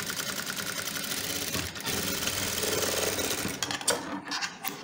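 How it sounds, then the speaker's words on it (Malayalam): A sewing machine stitches a men's shirt, joining front and back panels at a half-inch seam, with a fast, steady needle whir up close that pauses briefly between runs. "അപ്പോൾ അര ഇഞ്ച് ഗ്യാപ്പിൽ തയ്ച്ച് പോരുക."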